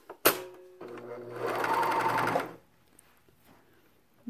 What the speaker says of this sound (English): I just wanted you guys to see how well this cover stitch works